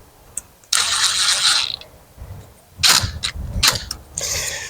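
Screw terminal on a furnace wire being tightened with a powered driver, loud close bursts of whirring motor and ratcheting clicks, stopping and starting in short runs.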